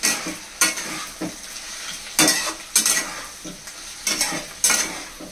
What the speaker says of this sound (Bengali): এবারে চিকেনটা দিয়ে দেবো এর মধ্যে। চিকেনটা একটু ভালো করে কষে নেবো এটা দিয়ে।